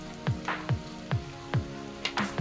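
Onions sautéing in a pan for beef curry, a soft steady sizzle with a series of quiet, regular stirring scrapes, close and faint.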